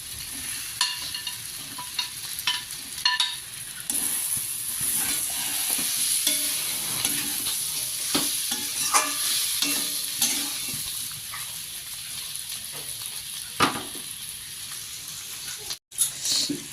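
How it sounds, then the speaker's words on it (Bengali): Baim fish, potatoes and spice paste fry in a pan, giving a dense, constant sizzle with frequent stirring scrapes and clatters, close up and with no one speaking. "আলুর সঙ্গে মশলাটাকে ভালো করে কষিয়ে নিয়েছি, এখন আমি বাম মাছগুলো দিয়ে দেব"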